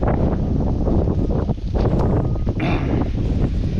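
Strong wind buffeting a microphone, a continuous loud roaring rush with gusty swells throughout, no clear voices.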